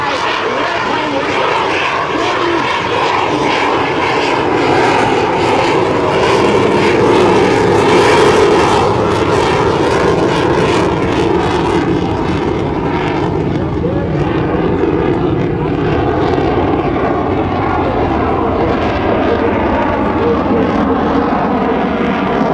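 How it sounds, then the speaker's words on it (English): An F/A-18C Hornet jet roars loudly and continuously during a 2010 Rhode Island Air National Guard open house airshow demonstration, a dense, sustained engine blast that swells slightly as it passes close overhead. "It is just phenomenal to watch this airplane go so very, very rapidly."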